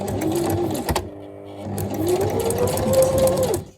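Sewing machine back stitching through a transparent journal pocket: a steady close mechanical whir that pauses briefly near the second mark, then runs again in a longer burst before stopping.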